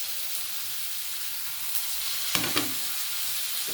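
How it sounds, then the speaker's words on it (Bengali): Eggplant pieces tossed into a pan of frying potatoes for a spring onion greens chorchori, giving a steady low sizzle with a couple of brief stirring scrapes and clatters near the middle. "আলুটা আমার অনেকটাই ভাজা হয়ে এসছে। এবার আমি বেগুনগুলো দিয়ে দেবো।"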